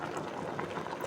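A soft, steady bubbling of sour fish soup with vegetables simmering at a rolling boil in a pot on the stove, continuous and fairly quiet with no voices.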